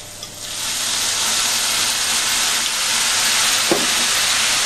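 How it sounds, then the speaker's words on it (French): Sliced bananas flambéed with rum hiss and sizzle in a hot pan, a loud, continuous frying roar close up that holds steady throughout. "On fait flamber nos bananes."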